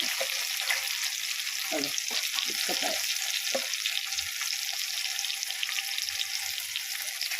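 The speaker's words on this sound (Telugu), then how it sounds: "ఇవి ఫ్రై అయిపోయింది" Snakehead fish (korramenu) frying in a pan, giving a steady loud sizzle that runs through the whole stretch, with a few brief clinks and stirring knocks near the start.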